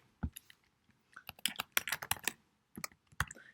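Fingers type on a computer keyboard while coding in Xcode, producing close, crisp key clicks in irregular bursts with short pauses between runs.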